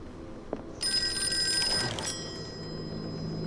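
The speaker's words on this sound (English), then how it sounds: "There would have to be a phone call." An old-fashioned telephone bell rings in the horror video game Call of Cthulhu, one bright metallic ring burst after a small knock, then fading into a quiet room tone.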